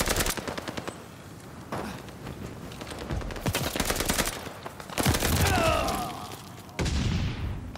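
Rapid bursts of automatic gunfire in Call of Duty Vanguard multiplayer, loud and close, broken by brief pauses between volleys, with a heavy boom near the end.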